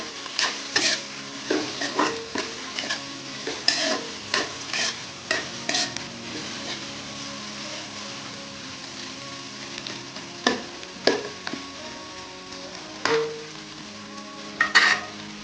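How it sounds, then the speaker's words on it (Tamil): A spoon stirs and scrapes ingredients sautéing in a pan for upma, with steady sizzling under repeated sharp metallic clinks and scrapes in an uneven rhythm, close and fairly loud, with no talking. "வதக்கி விட்டுக்கணும். நல்லா வதக்கிக்கணும்."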